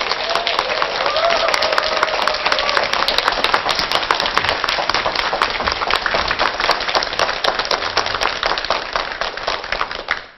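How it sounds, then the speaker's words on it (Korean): A lecture hall audience gives loud, dense applause to welcome a speaker, with sharp individual claps standing out over a sustained roar that continues for about ten seconds before cutting off. "강태규 이사님을 여러분 뜨거운 박수로 맞아주시기 바랍니다"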